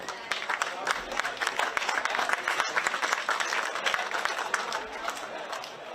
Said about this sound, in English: please give your appreciation and round of applause for the United Arab Emirates